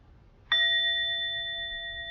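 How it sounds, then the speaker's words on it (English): A meditation bell is struck once after a moment of quiet, ringing out with a clear bright tone that lingers and fades only slowly across the rest of the stillness. "I'm going to invite a sound of the bell"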